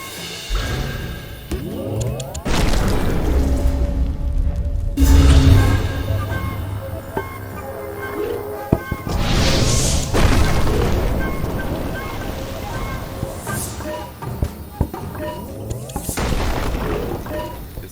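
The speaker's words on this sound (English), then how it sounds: "you're just lighting them on fire" Fires burning away in the video game Tchia, with loud booming bursts and crackling roars that swell and fade over several seconds, mixed with game sounds and occasional talk.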